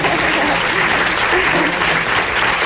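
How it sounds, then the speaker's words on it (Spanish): Loud, continuous applause fills the room from a crowd at a live Aragón Radio programming presentation, thick and unbroken for the whole stretch. "que suenan los aplausos que lleguen hasta Sydney, hasta Australia"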